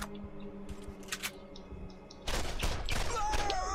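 Gunfire in Borderlands hits the player: a dense burst of rapid shots erupts after a quieter stretch of scattered game sounds, loud and close, with impact noises layered in.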